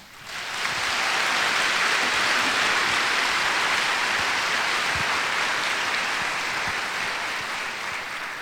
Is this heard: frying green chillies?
no